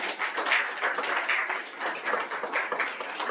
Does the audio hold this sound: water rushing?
no